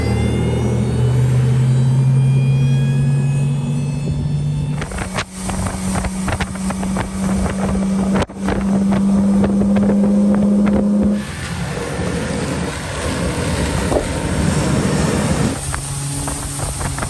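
Steady outboard motor hum from a 2023 Regency 250 LE3 tritoon pontoon boat, loud and close, with wind buffeting the microphone throughout.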